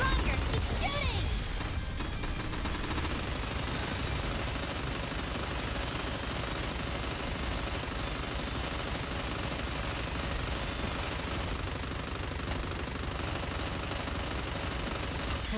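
Dense, continuous gunfire and bombardment from the battle game Goddess of Victory: NIKKE, with rapid shots and blasts layered over music and game voices throughout.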